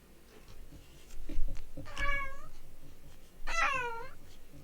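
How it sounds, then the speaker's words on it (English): A cat meows twice in The Stanley Parable video game, two clear rising-falling calls a second or so apart, quiet and close over faint background. "Look at the kitty cat."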